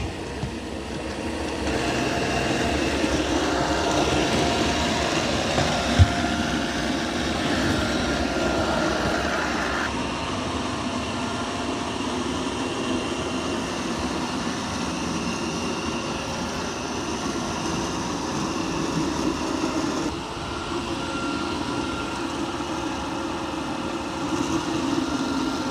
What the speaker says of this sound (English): it's mopping the floor.